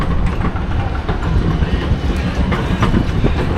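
A train rumbles steadily past close by at a station in Melbourne, with continuous rolling wheel noise and faint rhythmic clatter on the rails.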